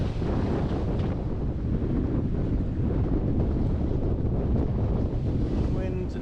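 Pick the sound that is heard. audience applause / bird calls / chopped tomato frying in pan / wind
wind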